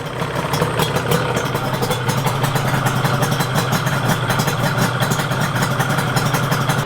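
Yamaha RZ350 motorcycle engine idling steadily during a carburetor sync while the idle screw is adjusted, a continuous close, even rumble with no pauses or voices.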